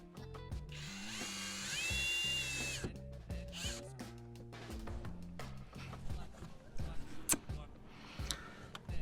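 Power drill driving a screw to mount a mud flap on a 2009-2018 RAM 1500 pickup, a sustained whirring burst over steady background music, followed by scattered clicks and knocks.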